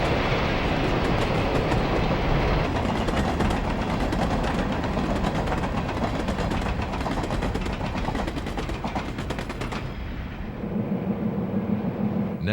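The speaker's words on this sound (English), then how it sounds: "After the train crosses the B&O Diamonds, it begins gathering speed for curves and a slight grade ahead." A B&O train rumbles past after crossing the diamonds, its wagons clattering loudly and continuously as it gathers speed, before the noise falls away sharply near the end.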